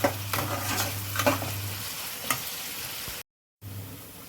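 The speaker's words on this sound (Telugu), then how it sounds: "ఉల్లిపాయలు వేగిన తర్వాత ఎల్లుల్లిపాయ వేసాము అలాగే పచ్చిమిర్చి కూడా వేసి కొద్దిగా వీటి మూడింటిని కూడా వేపుకుందామండి" Onions, garlic and green chillies sizzle and fry in a pan with steady crackling and a few scraping stirs, quiet and continuous, briefly cutting out near the end.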